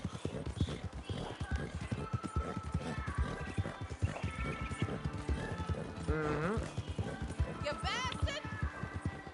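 Horse hooves gallop in Red Dead Redemption 2 as a steady, rapid clip-clop that runs throughout, close and fairly loud, layered with other game sounds and a brief whinny-like call near the end.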